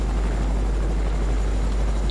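Helicopter rotor thudding steadily in a battle royale video game, a constant loud broadband whir filling the short stretch without any talk over it.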